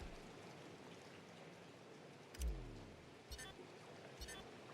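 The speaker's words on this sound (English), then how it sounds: "The rain set to continue as we are underway in the second half." Steady rain falling in the Madden NFL 21 football game, a constant hiss with a few faint thuds and a low rumble passing through, no voices.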